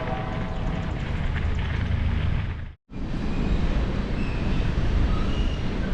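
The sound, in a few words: long slow train passing near bike trail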